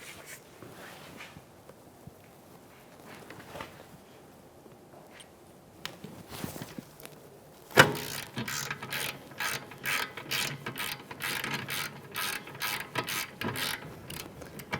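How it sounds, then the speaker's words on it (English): 17mm socket ratchet breaking loose the rear caliper bracket mounting bolts on a 2013-2018 Toyota RAV4 2.5L: a quiet stretch, then a sudden crack and a long run of rapid, close metallic ratchet clicks. "with a 17mm socket, I'm going to break these mounting bolts free"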